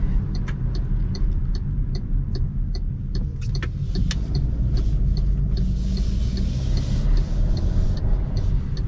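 A 2024 MG HS with a 1.5 TGDi 172 hp turbo petrol engine, heard from inside under hard acceleration: a steady, fairly loud engine drone with road noise and faint interior clicks, no speech.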